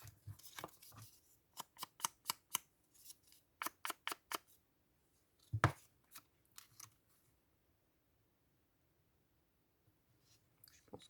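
Scissors snipping paper for a junk journal, a series of crisp, close cuts in quick clusters with pauses between, fading to faint rustles toward the end.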